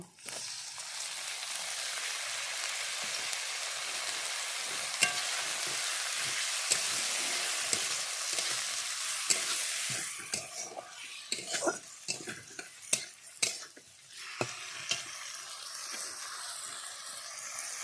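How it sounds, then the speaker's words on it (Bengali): Washed lentils frying in a pan, a dense sizzle that drops away midway, followed by irregular scrapes and knocks of a spoon stirring against the metal. "তো এভাবে কিছুক্ষণ নাড়াচাড়া করে নেব"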